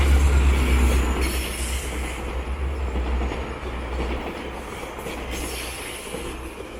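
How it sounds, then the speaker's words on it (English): A train rolls past on an urban rail line beside a Toronto condo community, its wheels squealing over a steady, loud rumble that fades slightly toward the end; no one speaks. "And we got another train."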